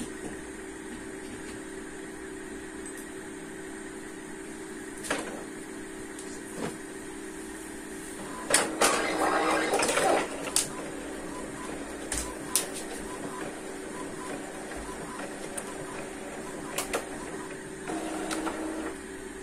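A home printer runs steadily while printing the inside pages of invitations, a continuous mechanical hum with bursts of clattering paper feed and rollers partway through, near and alone without speech.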